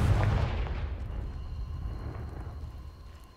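The Confringo blasting spell in the video game Hogwarts Legacy lands as a deep, rumbling explosion that hits hard at the start and then slowly fades over a few seconds, with no talking.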